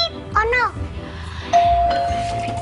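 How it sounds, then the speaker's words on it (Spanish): A doorbell sounds clearly, with a sustained electronic tone ringing out after someone speaks briefly at the start, indoors in a home. "Está sonando el timbre."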